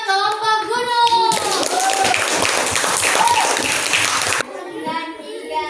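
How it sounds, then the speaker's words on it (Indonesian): Schoolchildren in a classroom clap for the mountain group, a burst of dense, loud applause lasting about three seconds, with children's voices and chatter before and after. "beri aplaus dulu buat kelompok gunung"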